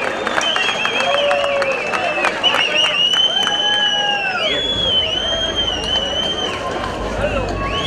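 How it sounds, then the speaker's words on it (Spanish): A crowd at an amateur football final award ceremony in Cabrero applauds Club Deportivo Jardines del Alto, with clapping mixed with cheering, shrill whistles and an announcer's voice. "Un fuerte aplauso para Club Deportivo Jardines del Alto"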